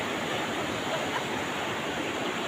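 A strong river rushes beneath a hanging footbridge in the countryside, a steady broadband roar of turbulent water that holds loud and unbroken throughout, with no voices over it.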